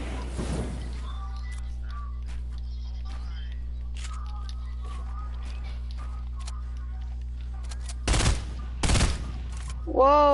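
Gunfire in an online shooter game: a couple of short, loud bursts near the end over a steady droning game soundscape, with players chatting over it.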